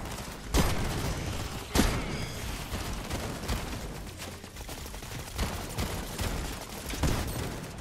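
SMG gunfire in the Fortnite video game, several short sharp bursts spaced a second or more apart over a busy background of game sounds, moderately loud with no talk.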